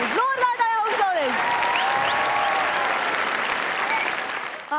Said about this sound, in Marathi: जोरदार टाळ्या उंचावले